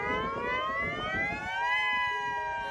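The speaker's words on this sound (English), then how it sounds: "activate the statewide siren system" Hawaii's statewide civil defense siren system sounding, a steady wailing tone with harmonics that slowly rises in pitch, loud and continuous with no voices.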